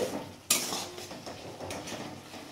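Small morola fish being stirred with cumin powder in a pan. A sharp metal clank of the spatula on the pan opens a stretch of soft scraping and quiet sizzling, fairly faint and without speech.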